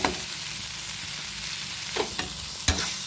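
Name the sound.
sautéing the spice mixture in a pan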